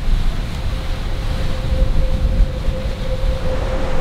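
Strong wind of about 20 knots roars steadily around a sailing boat offshore just after midnight, a loud continuous rush with water noise and a faint sustained tone running through it, no voices.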